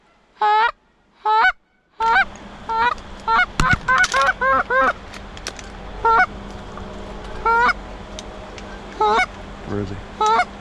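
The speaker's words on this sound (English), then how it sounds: "That's a goose. That's a goose." Loud, close goose honks during an early-season waterfowl hunt, first a couple of isolated calls, then a series of repeated honks over a low background rumble.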